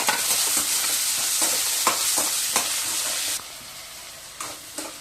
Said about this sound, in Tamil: வெங்காயம் தக்காளி இதெல்லாம் நல்லா வதங்கிட்டுருக்கு